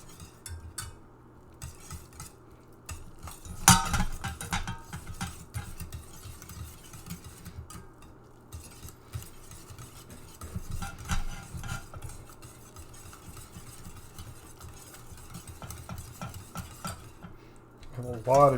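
Cheese is stirred into a lobster mac and cheese sauce off the heat, with repeated scraping and clinking of a utensil against the pot, close and moderately loud with irregular strokes.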